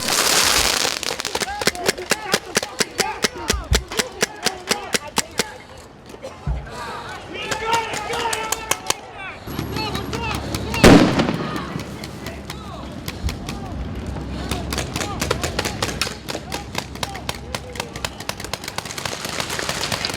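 Fireworks crack and pop in rapid, sharp volleys during a street clash between rival groups, dense bursts of explosions close and loud, with a larger blast midway and voices shouting underneath.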